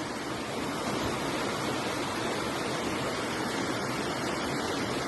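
A waterfall spills across a stream in the woods, a dense, steady roar of rushing water that stays loud and unbroken throughout with no voices.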